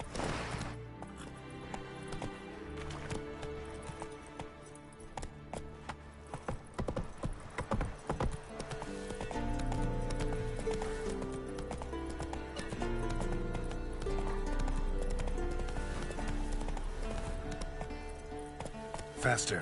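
In The Witcher 3 on PS5, the horse Roach gallops with a quick rhythmic pounding of hooves that carries on throughout, mixed with swelling game music, while someone briefly speaks over it.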